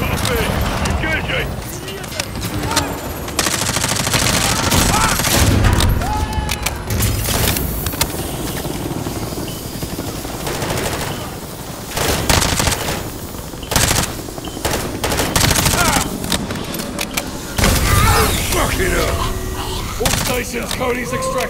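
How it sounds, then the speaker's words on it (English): In Call of Duty: Modern Warfare 3, heavy automatic gunfire hammers at an enemy helicopter in dense, loud bursts with booming impacts, under shouted squad voices. "All Bravo, put fire on that helo. Bring it down."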